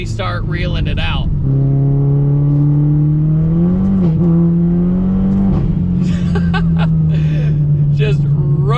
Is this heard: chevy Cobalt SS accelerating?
yes